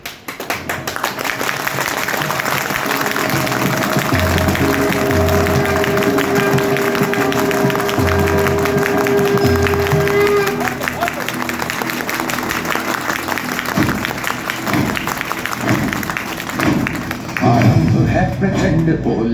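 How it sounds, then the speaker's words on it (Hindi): An audience in a meeting hall claps hands together in a sustained, dense round of applause that fills the room, with someone speaking over it. "सब ताली ऐसे ऐसे बजाते हैं ना"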